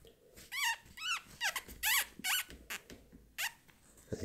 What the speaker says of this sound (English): Can hear that squeaking there.